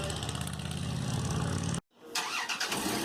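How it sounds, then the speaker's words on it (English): Loud, steady engine roar from motorcycles close by in New Jersey, cutting out abruptly, then resuming as a brighter, revving whine after a short silence. "Loud motorcycles."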